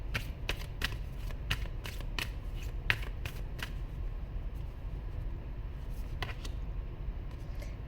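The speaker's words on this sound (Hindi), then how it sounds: "यहाँ से कुछ कार्ड्स लूँगी।" Tarot cards are drawn and shuffled in a run of crisp, close flicks and riffles, then a pause and a couple more snaps, over a quiet low room hum.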